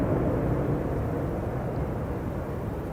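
A jet airliner departs Amsterdam Schiphol Airport, heard as a steady, broad rumbling roar at moderate distance that holds constant for a few seconds.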